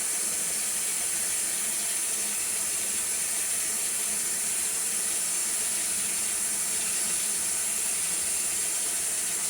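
Water pours from a faucet in a steady, loud, unbroken rush while raw fleece is washed in a bag, a broad hiss with no breaks or voices.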